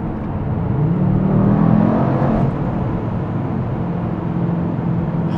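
2024 Mercedes-AMG GT63 S E Performance accelerating, heard from inside as a rising engine and road drone with a swelling tone, then settling into a steady cabin roar.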